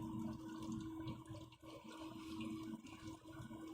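Water and air bubbles move through a PC radiator cooling loop with a 480mm radiator, a faint continuous trickling and gurgle with a soft dip midway, close and quiet with no talk.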